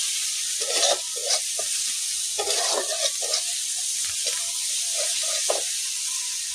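Vegetables sizzle steadily in a hot pan after turmeric is added, with a constant close frying hiss broken by the scrape and clatter of a utensil stirring the mix.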